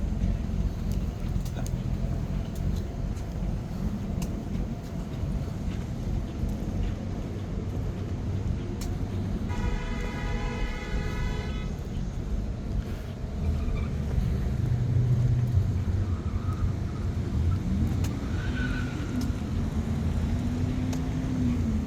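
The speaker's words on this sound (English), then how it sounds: "Some busy sounding traffic." Busy road traffic on a suburban Atlanta street, heard while walking, makes a steady close rumble of passing cars, and a brief tonal honk sounds about midway.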